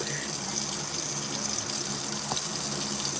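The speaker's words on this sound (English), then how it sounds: "We clean off the rice with cool water." Cold tap water runs steadily into a sink while rice is rinsed for chicken soup, a continuous close hissing flow with a faint clink partway through.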